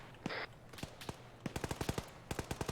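Rapid video game gunfire in short automatic bursts during an aerial combat match, sharp repeated cracks clustered together and fairly close, with no talking over them.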